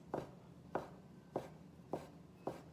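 A knife slices floured gluten-free pasta dough into fettuccine with five faint, evenly spaced cuts about every half second, each a soft scraping thud on the board.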